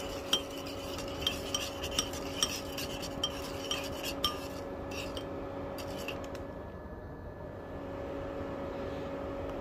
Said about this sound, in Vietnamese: Quậy cho gia vị nó tan ra.